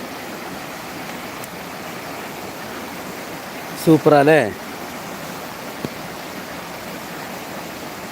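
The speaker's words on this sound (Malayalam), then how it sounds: "സൂപ്പർ വെള്ളച്ചാട്ടം അല്ലേ" Steady rushing roar of a waterfall fills the scene, with a brief spoken exclamation rising over it.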